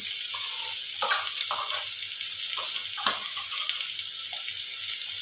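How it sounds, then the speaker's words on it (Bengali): Ginger garlic paste hitting hot oil in a frying pan for a chicken stew, a steady bright sizzle with a few sharp spatters and stirring knocks, close up and without talk. "এবার এর মধ্যে দিয়ে দেব একটু আদা রসুনের পেস্ট"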